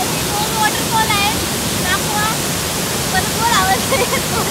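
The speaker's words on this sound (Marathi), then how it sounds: "वॉटरफॉल आहे" A hidden waterfall at Nijampur near Mangaon pours in a steady, close broadband roar, with light bird chirps coming through now and then.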